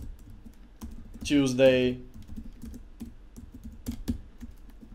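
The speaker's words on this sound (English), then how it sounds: "I won't be typing in all of them because it will take more time than it's necessary." Steady, light clicking of a computer keyboard as someone types code, with a single spoken word briefly breaking in partway through.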